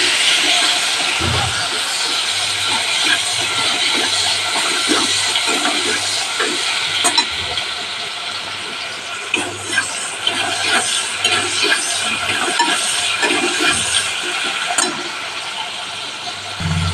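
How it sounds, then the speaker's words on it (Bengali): Onion and tomato fry in hot oil for a Bengali pabda mustard fish dish, giving a continuous hissing sizzle that holds steady throughout, with a voice talking faintly underneath. "পেঁয়াজ টমেটোটা একটু ভেজে নিই।"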